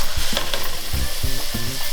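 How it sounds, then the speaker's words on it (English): Burgers fry in brown butter with a loud, close crackling sizzle, and a few sharper spits and pan clatters punctuate the steady frying. "So let's start cooking these burgers."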